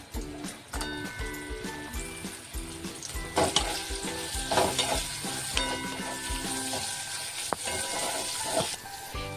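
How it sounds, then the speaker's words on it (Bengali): Cashews and raisins sizzle steadily in ghee alongside fried capsicum, with occasional clinks and scrapes of a spatula stirring the pan, close and loud, no voices. "কাজু আর কিশমিশটাও ভেজে নিচ্ছি ওর সঙ্গে"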